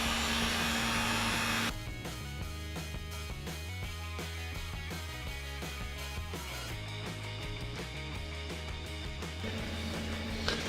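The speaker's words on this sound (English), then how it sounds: "we got the heat gun" A heat gun blows hot air onto a Camaro ZL1 1LE rear spoiler to loosen it, giving a loud, continuous fan roar that holds steady throughout.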